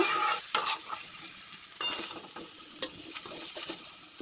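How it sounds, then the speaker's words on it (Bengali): Green jackfruit being fried in a pan with several sharp scrapes and clinks of a spatula stirring over a continuous sizzle, close and fairly loud, with no speech. "এঁচড়টাকেও আমি বেশ লাল লাল করে ভেজে নিয়েছি এবারে তুলে নেব"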